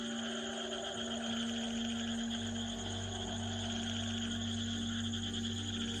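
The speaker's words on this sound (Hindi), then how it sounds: "पता नहीं क्यों इतने सारे मेंढक एक साथ बोल रहे हैं।" A dense chorus of many frogs croaks together outdoors at night near a village, a steady layered pulsing that carries on without pause under a low constant hum.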